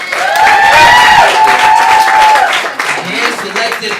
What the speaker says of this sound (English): Give a round of applause for all the performers you've seen tonight.